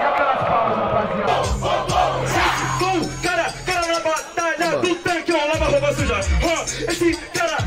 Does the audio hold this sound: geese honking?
no